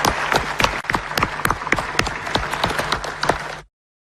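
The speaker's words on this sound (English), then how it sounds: "Please let us give them a thunderous round of applause." Applause for six flag bearers at a 2018 presidential debate: sustained clapping from a large audience with sharp individual claps standing out, steady and loud, stopping abruptly.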